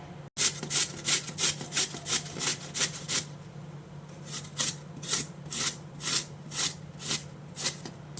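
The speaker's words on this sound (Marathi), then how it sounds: "इथे आपण अशा मोठ्या किसणीचा वापर करणार आहेत आणि त्यावर हे बटाटे किसून घेणार आहे" Peeled raw potatoes rubbed against a large grater, a rhythmic series of close rasping strokes, about ten quick scrapes, a brief pause, then another even run of strokes.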